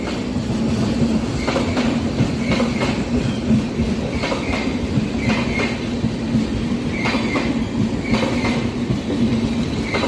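An express train rolls through Bhimavaram station without stopping, a loud steady rumble with repeated clickety-clack wheel beats and faint squeals as the coaches pass close by.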